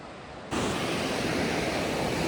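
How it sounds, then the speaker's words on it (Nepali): A village river flowing, a sudden onset of dense, steady rushing water that continues loud and close, without speech. "तपाईँले देख्न सक्नुहुन्छ यहाँ खोला छ, खोला है"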